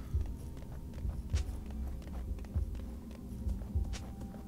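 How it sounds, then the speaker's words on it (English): Twitch in League of Legends moves with soft footsteps and a low heartbeat-like thumping, a quiet, irregular pattern of muffled low thuds with faint ticks above them. "You can like hear his footsteps and you can hear the heartbeat"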